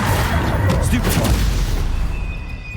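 Stupefy stunning spell cast in Hogwarts Legacy, a deep booming impact at the start fading into rumbling combat noise, loud and close, with a voice calling out.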